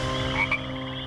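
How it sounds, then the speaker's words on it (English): Frogs croaking and chirping by a backyard lake, a steady layered chorus of near and distant calls with a couple of brighter chirps standing out briefly, no voices. "here by the lake with the frogs burping and chirping"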